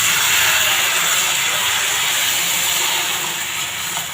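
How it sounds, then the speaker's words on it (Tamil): Tomato rava dosa batter is poured onto a hot griddle stone and sends up a loud, steady hiss and sizzle that stays close and constant, then eases slightly at the end. "இதில் நம்ம ரவா தோசை எப்படி ஊற்றுவோமோ அதே மாதிரி தான் ஊற்றணும்"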